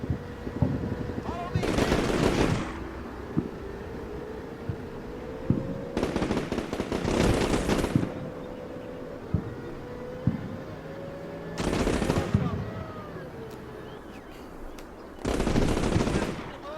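Automatic gunfire rattles in the video game Combat Mission Shock Force 2, coming in four loud, dense bursts of about one to two seconds each, separated by quieter stretches with scattered single shots.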